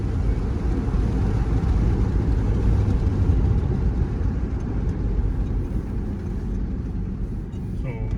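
A tuned 2002 4WD Yukon with a K&N intake, 4.11 gears and 35-inch tires on 20-inch rims cruises along, its engine and road noise a steady, loud, continuous rumble from inside the cabin.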